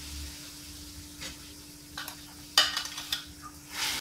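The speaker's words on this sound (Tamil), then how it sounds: "இப்போ நம்ம அரைச்ச விழுதையும் சேர்க்குறோம்." Ground paste being added to a hot pan while cooking matar paneer, with a short sizzle and spoon scrapes and stirring against the pan, close and moderately loud, no talking.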